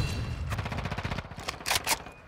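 Sustained automatic gunfire in Call of Duty Modern Warfare II, a dense stream of rapid shots with a couple of louder bursts near the end, loud and close.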